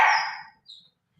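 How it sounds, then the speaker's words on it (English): A dog gives a single sharp bark nearby. It rings out briefly at the start and quickly fades to silence, with no voices around it. "that's my dog Shiloh there barking and making his presence known"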